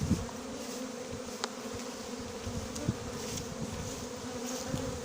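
Honeybees from a swarm being hived at a farm form a dense, steady buzz all around, close and continuous, with a few individual bees zipping past near the microphone.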